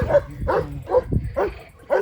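A small dog barks five or six times in quick, uneven yips, fairly close, with no talking.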